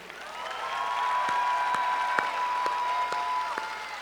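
Audience applause rings out at a high school commencement ceremony honoring graduates' parents and families, a steady wash of clapping with a few sharp nearby claps standing out and a faint sustained tone underneath.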